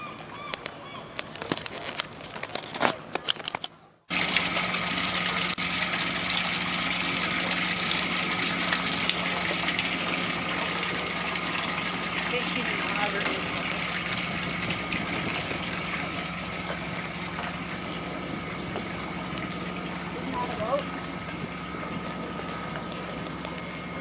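A boat engine idles steadily in Steveston Harbour, British Columbia, Canada, a continuous low hum and drone with a few brief clatters at the start, holding level for the rest.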